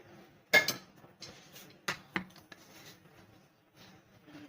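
Curry being served out with metal utensils in a small home kitchen, several sharp clinks and scrapes against a pot spaced irregularly, close and fairly quiet with no talking.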